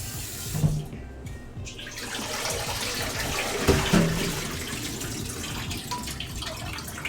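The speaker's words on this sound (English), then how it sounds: "Refill that with some water." Tap water runs into a sink in a kitchen, a continuous rushing stream with a few light knocks and clatters mixed in.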